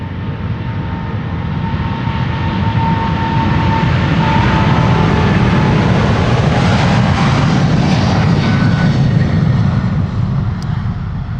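A KLM Boeing 777-200 jet departs Amsterdam Schiphol, a loud continuous engine roar that holds steady and slowly builds, heard outdoors from a fair distance with no voices.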